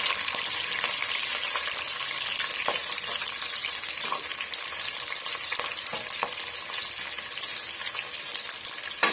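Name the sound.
onions and green chillies frying in a pan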